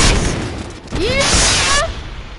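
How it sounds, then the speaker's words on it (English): Explosions in the video game Just Cause 3, a dense burst of blasts with rising whistling streaks over a rumbling roar that stays loud throughout. "How I love explosions!"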